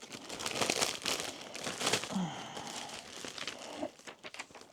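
A crinkly plastic package of flex craft supplies is pulled open up close, producing loud crumpling and crackling bursts that ease off toward the end, without speech.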